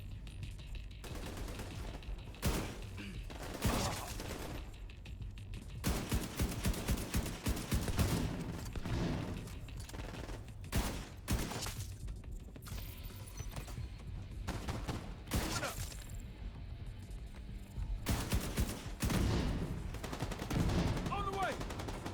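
Rifle gunfire in The Division 2, with repeated close bursts and single shots cracking throughout amid game action and impacts.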